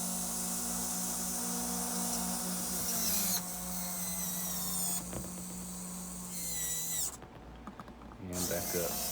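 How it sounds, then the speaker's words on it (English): Electric retract motors on a 5th-scale RC model's CJM landing gear whir and grind loudly, jerking the legs up and down in several separate strokes with abrupt stops between them. "Those motors have got so much torque they make those things jerk."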